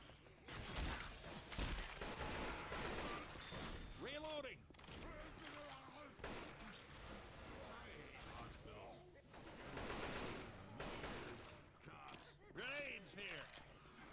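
Gunfire and grenades in the zombie shooter Left 4 Dead 2, with bursts of shots and sharp game effects scattered over a dense mix of in-game noise while players talk throughout.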